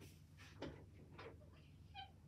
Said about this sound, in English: Oh, that's my cat. Let me let my cat in.